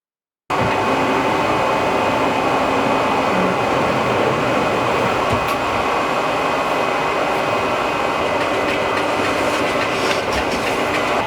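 A garment printer runs while printing a t-shirt, a loud continuous mechanical whir and rumble with faint rhythmic clatter, steady from a brief silent start with no talk.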